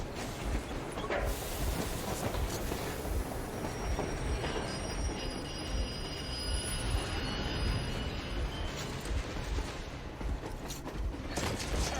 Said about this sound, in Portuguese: Nossa, o trem passou por cima.